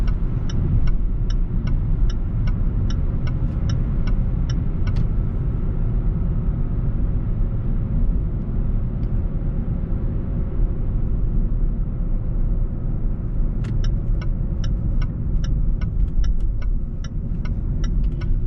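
A 2019 Range Rover Sport P400e HSE plug-in hybrid cruising on a highway in full electric mode, a loud steady low rumble of road and tyre noise inside the cabin with a few repeated high electronic ticks at the start and end; no talking.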